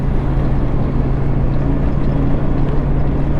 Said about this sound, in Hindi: आज मैं सिल्लीगुड़ी की रोड पे बाइक चला रहा हूँ।